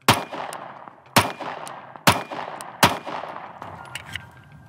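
Four sharp handgun shots from a Glock 43x or Sig Sauer P365 Macro at an outdoor range, spaced about a second apart, each loud close blast trailing off into a short decay, with faint clicks after the last round.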